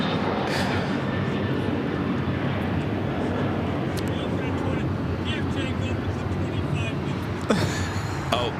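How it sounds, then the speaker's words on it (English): An Alaska Airlines Boeing 737-900ER takes off at LAX, a loud continuous jet roar that fills the scene from start to finish, heard from close range with no talk over it. "That was Alaska Airlines 1364 taking off to Cancun, Mexico on the 737-900ER."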